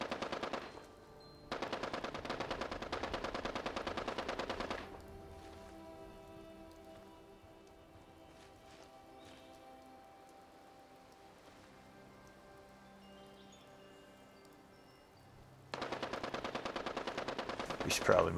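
Video game machine gun fire comes in sustained rapid bursts, with one long stretch at the start and another near the end, separated by a quieter lull with faint tones and distant activity.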